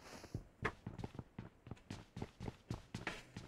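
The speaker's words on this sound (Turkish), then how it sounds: "Bir fışlama sesi, sürünme sesi geliyordu." Crawling movement in the PUBG Mobile game on the Livik map, heard as a steady run of soft scuffing rustles, about eight evenly spaced brushes, fairly close and moderately loud with no talk over them.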